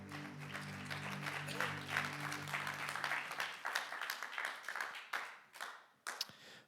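A church congregation applauds after a worship song, dense clapping under a sustained organ-like chord that fades out, the applause thinning into scattered claps by the end.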